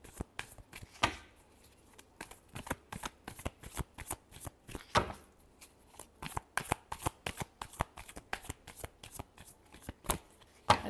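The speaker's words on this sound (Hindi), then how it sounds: "Last shuffle." Tarot cards are shuffled by hand in quick, crisp riffling bursts that repeat steadily throughout, close and fairly quiet, with no talking.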